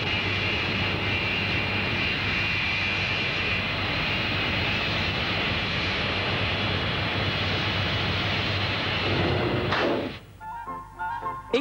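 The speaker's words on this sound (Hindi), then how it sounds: "एक जेट आया है" A private jet's engines roar steadily and loudly for about ten seconds, then the noise cuts away abruptly into quieter, mixed sounds at the end.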